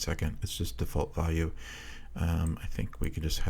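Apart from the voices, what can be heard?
No distinct noise like a dog, phone or traffic.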